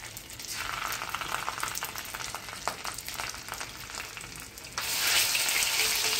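Garlic and ginger paste fries with roasted ajwain in a pan for masala bhindi, a steady hissing sizzle that jumps suddenly louder near the end as more goes in.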